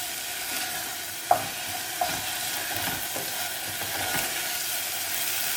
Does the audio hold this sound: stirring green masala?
yes